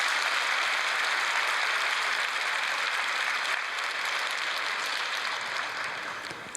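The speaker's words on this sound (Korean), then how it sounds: "우리 박수 한번 드리십시오." A church congregation claps after the choir's hymn, a dense, even wash of applause from a large crowd that stays steady and tapers slightly at the end.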